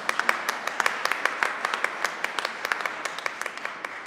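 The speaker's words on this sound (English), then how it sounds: "And that's fine that you applaud." An Easter Sunday Mass congregation applauds in a steady round of scattered, crisp claps, moderately loud and even throughout with no voices over it.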